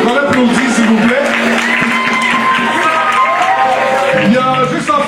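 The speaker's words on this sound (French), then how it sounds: "On l'applaudit s'il vous plaît" An audience at a slam poetry night in Montreal claps steadily for a jury member, a dense patter of hands with a few cheers, while a voice speaks over it.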